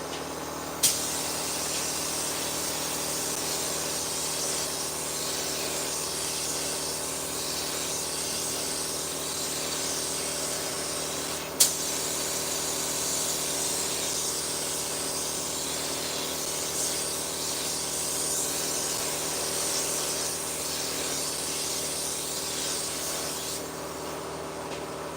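A spray gun laying down a light mist coat of paint on a commissioned piece, a steady continuous airy hiss held for a long stretch with a couple of faint clicks, no talking.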